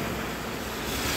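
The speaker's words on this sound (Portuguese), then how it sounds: "Ih, tá ventando, ó." Strong wind gusting outdoors at a hilltop lookout terminal in Teresópolis on a cold day, a loud continuous rumble buffeting the microphone.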